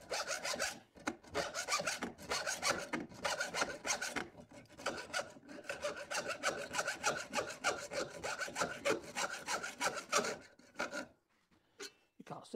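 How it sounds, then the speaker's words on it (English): A hand saw fitted with an 18 TPI blade cuts through thin tube in rapid rasping strokes, a close, rhythmic scratchy sawing that continues steadily before stopping near the end. "I'm cutting thin tube, and I've got an 18 TPI tooth. It's way too coarse."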